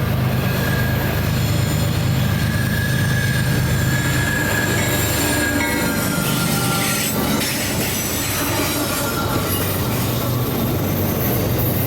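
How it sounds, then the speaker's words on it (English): A CSX freight train grinds slowly through a very sharp curve in Plant City, Florida, its wheels screeching in long high-pitched squeals over a steady low rumble of railcars, loud and close with no talking. "The curve is so sharp that the inner parts of the wheels scrape along the rails"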